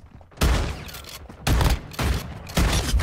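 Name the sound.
shotgun firing in the video game Warzone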